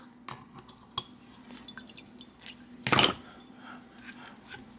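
A bicycle freehub lifted from a jar of mineral spirits, giving a brief cluster of wet drips and splashes against glass near the middle, set against a faint steady hum, with no talking.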